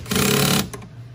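A 12 millimeter socket ratchet tightening a bolt during a 12-volt battery swap on a Toyota Prius, a short burst of fast, close clicking ratchet action lasting half a second, then quiet.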